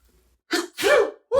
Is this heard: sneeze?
yes